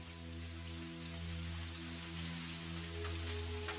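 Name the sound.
rain falling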